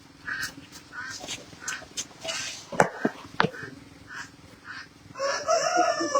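A rooster crows loudly and close by near the end, after a stretch of background chatter and a couple of sharp knocks.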